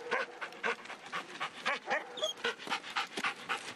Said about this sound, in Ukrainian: На службі собака 3 роки